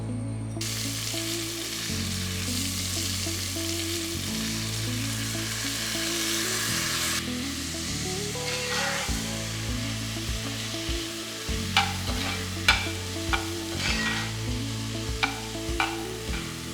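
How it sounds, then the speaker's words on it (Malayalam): Soaked kaima rice sautés with spices in a pan for erachi choru, a continuous close sizzle with intermittent scraping stirs and a few sharp clinks toward the end. "അരിയിട്ട് ഒന്ന് ചെറുതായിട്ട് സോട്ട് ചെയ്തു."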